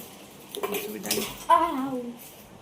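Metal utensils clink and clatter against a pot or dishes while Maggi noodles are cooked at home, a few light knocks and scrapes close by over a quiet kitchen background.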